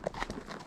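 Horse hooves clip-clopping on a trail while riding behind another horse, a couple of quick close hoof strikes in under a second.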